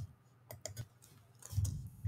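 A few quick, faint computer mouse clicks in a quiet room, spaced apart, followed by a soft rustle of handling.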